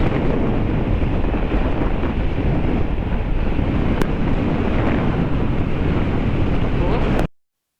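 Heavy, constant wind buffeting a riding Honda Click 150i scooter on a North Luzon highway, loud and unbroken rumble with a couple of brief clicks, then an abrupt cut to silence at the end.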